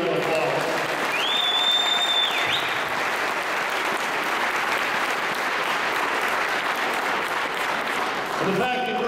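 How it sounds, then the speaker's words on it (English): Audience applause rises at Greater Mankato Day at the Capitol, a crowd gathered in an indoor hall clapping steadily for the business community, with a brief tone and some voices mixed in over the dense, continuous clapping. "So let's give the business community here a round of applause."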